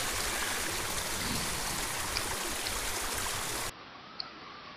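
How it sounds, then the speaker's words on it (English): Water pours steadily over a road at a small creek dam, a dense, even rushing roar that fills the whole clip and drops suddenly in level near the end, with no voices. "here you can see the dam and the water running over the road"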